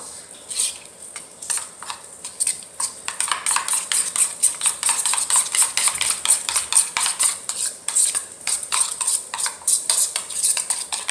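Ingredients for fried green tomatoes mixed in a bowl or pan, a rapid rhythmic clatter of utensil against cookware, loud and close, repeating steadily.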